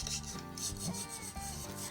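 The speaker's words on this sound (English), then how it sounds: "you can always sand both sides and refinish your picture frame on the color that you wish" A wooden picture frame being sanded by hand, steady back-and-forth rasping strokes repeating in an even rhythm, close and moderately loud with no talking.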